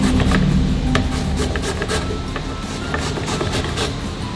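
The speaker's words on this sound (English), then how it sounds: "So I'm going to zest. Get a little bit of the zest in there." Limes scraped against a metal grater to zest the peel, a close, steady rasping and rubbing that runs continuously through the whole stretch with no talk over it.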